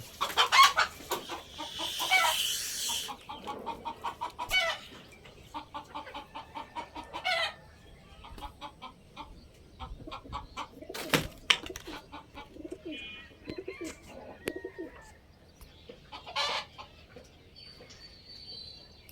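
Birds coo and cluck repeatedly, with a rooster-like crow breaking in at moments; the calls come close and overlap in a busy, irregular stream without speech.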